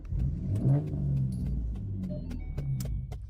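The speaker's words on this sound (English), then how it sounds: "my car make noise when I turn it on" A car engine starting and revving, a low rumbling roar heard from inside the vehicle, close and steady with a few faint clicks and rattles over it.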